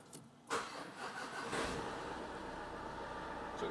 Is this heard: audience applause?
no